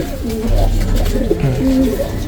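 A young racing pigeon coos close by, giving soft, throaty warbling notes that rise and fall over a low background hum, with no talking.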